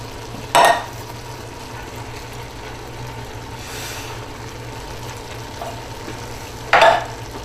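Turkey chili with peppers stirred in a pot, two short scraping strokes of a spoon against the pot at the start and end over a steady low simmering hiss, close by with no talk.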